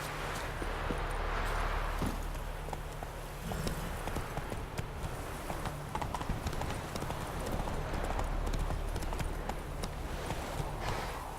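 Roach, the horse in The Witcher 3, gallops steadily with rhythmic hoofbeats that carry on for several seconds, heard close over ambient game background.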